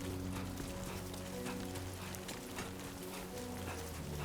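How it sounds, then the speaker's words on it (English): Steady rain pattering on surfaces in Death Stranding 2, a dense, even hiss of drops under low sustained drone tones from the game. "Rain. Gotta move."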